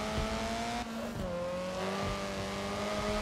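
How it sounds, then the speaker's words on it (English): A hot hatch car in the Forza Motorsport 7 racing game brakes and handbrakes mid-race, with a steady engine drone dipping and shifting pitch and a short tire squeal, loud and continuous. "That was a brake and handbrake situation."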